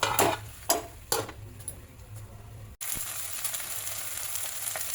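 Goat mutton sears in a pan, a continuous hiss of sizzling fat with a few sharp clinks of a utensil early on, then a brief break before the frying resumes, steady and close.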